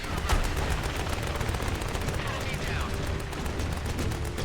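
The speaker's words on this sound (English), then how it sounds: "You're under heavy fire." Gunfire in a war video game, a dense rattle of rapid shots running steadily through the whole stretch at moderate loudness, mixed with background game noise.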